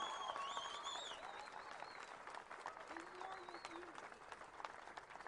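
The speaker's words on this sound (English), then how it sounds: "let us hear by the sound of the round of applause for our dear brother" Crowd applauding outdoors at a prayer vigil in Minneapolis, a faint, distant wash of clapping mixed with scattered cheers and whistles, low in level throughout.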